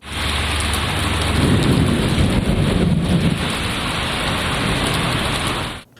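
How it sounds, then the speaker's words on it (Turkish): Heavy rain shower pours steadily in Elazığ, Turkey, with a deep rolling rumble of thunder swelling in the middle; loud, continuous and close, with no voices. "Elazığ'da da sağanak yağış etkili oldu."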